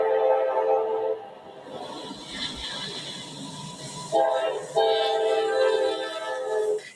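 A Norfolk Southern freight train with diesel locomotives, including AC44C6M and ET44AC units, rumbles past nearby with a loud, sustained horn blaring in long blasts over the steady roar of the engines.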